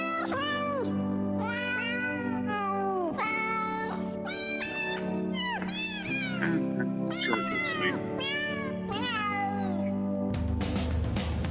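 A cat meows over and over for about ten seconds in a string of drawn-out, wavering calls that rise and fall in pitch. The calls are close and clear, with a brief noisy rustle at the end.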